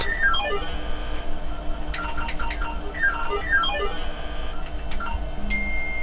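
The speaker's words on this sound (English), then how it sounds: "Oh, there's my phone going off." A mobile phone rings with a melodic ringtone near a refurbished 486 DX2 DOS PC. It plays repeated runs of descending chirpy tones and short beeps over a low background hum.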